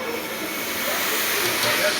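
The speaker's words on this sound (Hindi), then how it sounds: "तड़का लगाते हुए" Spices sizzle as they are tempered in hot oil for a large communal feast in an ashram kitchen, a loud, steady hiss lasting the whole two seconds.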